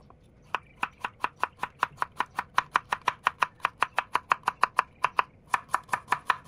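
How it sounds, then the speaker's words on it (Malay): Steady rhythmic knife strokes slicing potatoes thinly on a cutting board, crisp regular taps close by, with a brief pause near the end. "Kentang juga dihiris nipis."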